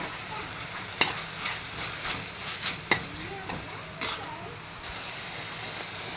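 Tomatoes and coriander leaves sauté in a pan for a Kerala-style side dish, giving a soft steady sizzle with several sharp spoon scrapes and clinks against the pan as it is stirred.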